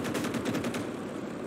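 Rapid gunfire in the World War II video game Call to Arms: Gates of Hell, a dense machine-gun burst with repeated shots running steadily through the whole short stretch, loud and continuous with no talking.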